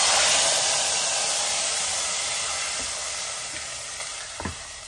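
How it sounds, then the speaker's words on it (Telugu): Hot ghee tempering poured into multigrain khichdi, an intense close hiss and crackle at first that gradually softens over a few seconds, with a couple of small knocks near the end and no voices. "సో పోపు ఇందులో వేసేద్దాం ఇలా నేతి"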